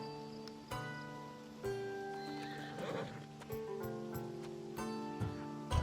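A horse in the video game Assassin's Creed Odyssey neighs repeatedly while hooves clop in a steady rhythm, set against soft sustained music tones.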